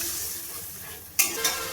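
Bengali masala paste for a green banana kofta curry being stirred in a pan, a low sizzle of frying under scraping spoon strokes, with two sharp bursts of louder sizzling and scraping near the end.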